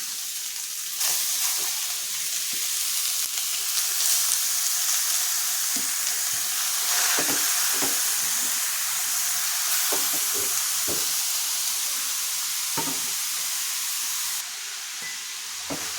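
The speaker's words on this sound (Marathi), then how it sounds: "तूप गरम झालं की आपण यात सर्व गाजराचा किस टाकून द्यायचा आहे." Grated carrot fries in ghee in a large wok, making a loud, dense, continuous sizzle and hiss. Intermittent clacks of stirring sound close up, and the sizzle drops slightly near the end.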